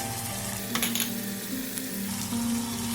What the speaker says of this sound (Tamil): இந்த சீரகத்தூளையும் சேர்த்து வதக்கி விட்டுக்கலாம்.